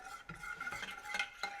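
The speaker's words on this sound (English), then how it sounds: "We're gonna mix the whole lot," Cream sauce for poached fish, Normandy style, is stirred in a pan with a utensil, producing soft repeated scraping strokes and light clinks over a gentle simmer, with no talking.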